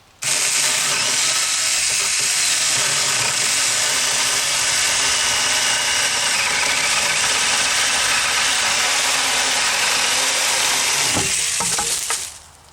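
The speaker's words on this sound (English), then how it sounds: "See how our little chainsaw does." A small chainsaw runs loud and steady for about twelve seconds, a harsh buzzing roar while cutting wood, then cuts off abruptly.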